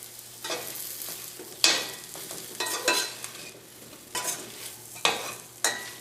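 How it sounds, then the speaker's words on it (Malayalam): Okra (ladies finger) sautéing in masala over a medium flame, with a steady close sizzle broken by sharp spoon scrapes and stirs every second or so. "ഇത് നമുക്കൊരു മീഡിയം ഫ്ലെയിമിലിട്ടിട്ട് ഈ വെണ്ടക്കായ പതുക്കെ ഒന്ന് വാട്ടിയെടുക്കാം"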